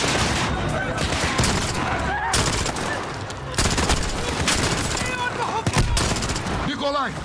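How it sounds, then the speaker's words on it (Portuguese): Gunfire during an ambush in the video game Call of Duty Modern Warfare 2019: loud, sustained volleys of rapid automatic shots and fusillades, with voices mixed into the chaos. "Os tiros, claro."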